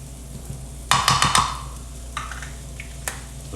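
A sudden burst of sizzling as onion hits a hot pan during a breakfast frittata, followed by stirring scrapes and a few utensil clinks against a low kitchen hum.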